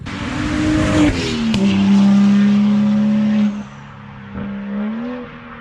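A tuned BMW N55 car engine revs loudly, climbing and holding a throaty high-pitched roar, then dropping back to a rumbling idle.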